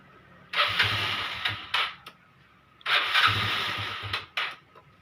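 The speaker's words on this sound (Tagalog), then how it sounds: "O yan, working na po yung unit natin, umaandar na po siya." A Yamaha Mio Sporty scooter, freshly repaired after an electrical fault, starts twice up close; each time the small engine catches and revs briefly, then dies back down between attempts.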